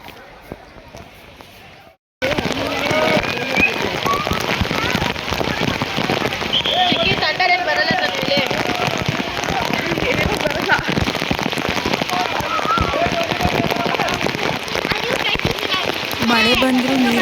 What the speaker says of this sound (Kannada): ಮಳೆ ಬಂದಿದ್ದು ಆ್ಯಕ್ಚುಲಿ ಇನ್ನೂ ಖುಷಿ ಆಯಿತು